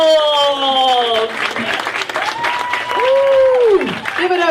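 Comedy club audience applauds and whoops for a headlining comedian being introduced, loud sustained clapping with cheers and a voice over it throughout.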